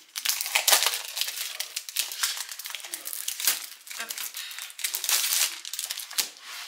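A set of 250 gsm paper cut-out images is handled up close, giving a run of crinkling and rustling bursts with short pauses between them.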